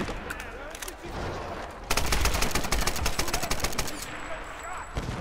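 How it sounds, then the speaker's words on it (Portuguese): A machine gun fires in the Tomb Raider video game, a loud rapid volley of shots lasting about two seconds, with scattered quieter shots around it and someone talking over the action. "Ah, tô com a metralhadora."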